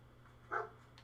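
A dog gives a single short bark in the video game Fallout 4, brief and fairly faint over a low steady background hum.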